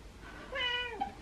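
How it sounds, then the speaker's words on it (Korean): A rescued stray cat gives a single short, rising-and-falling meow, fairly close and clear over a quiet indoor background. "고양이 사랑받는구나."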